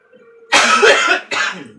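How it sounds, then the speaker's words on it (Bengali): People coughing at home, two loud close coughing bursts in quick succession, the first longer and harsher, following a faint murmur. "সবাই কাশির পার্টি এখানে"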